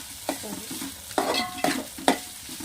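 Pieces of fish for a tamarind fish curry hit a hot pan and get stirred, giving three or four sharp sizzling bursts with scraping clatter between them, close and fairly loud.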